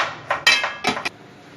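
A metal lid settles onto a pot of kadhi that has just come to the boil, giving a few sharp, close clanks and rattles in quick succession, then quiet with no voices.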